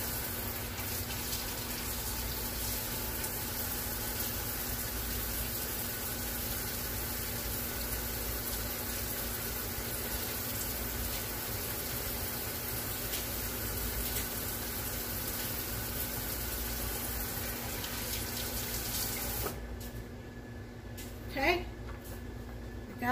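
Tap water runs steadily into a sink for a long stretch while a piping tip is rinsed, then cuts off near the end, leaving a few faint clinks and quiet handling sounds.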